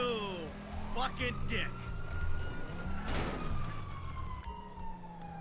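Police sirens wail during a chase in the video game GTA V, rising and falling tones sweeping continuously under someone talking over the game.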